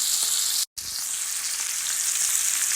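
Stuffed chicken breasts sear in a hot pan over a gas flame, giving a steady, loud, close sizzle that breaks off for an instant, then carries on unbroken with no voices.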